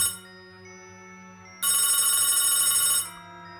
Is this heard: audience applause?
no